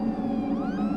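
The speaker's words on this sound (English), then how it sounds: "looked towards the sound of the siren, which sounded closer than ever." A wailing emergency siren rises and falls steadily, sounding fairly close and alone with no voices, its pitch sweeping upward in a continuous tone.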